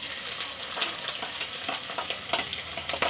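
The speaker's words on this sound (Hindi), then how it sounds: "दोस्तों, पहले डालेंगे हम प्याज।" Chopped onions frying in hot oil for veg manchurian: a loud, close, steady sizzle with repeated stirring scrapes and no talk.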